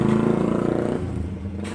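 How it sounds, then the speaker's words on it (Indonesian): A 2017 Toyota Grand New Avanza 1.3 with a dual VVT-i engine and manual gearbox turns over and catches, settling into a loud, close, steady rough idle with a rhythmic low throb. "sekarang saatnya kita hidupkan mesin."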